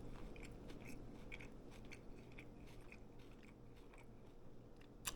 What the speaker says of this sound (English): Toasting this bread made it crunchy.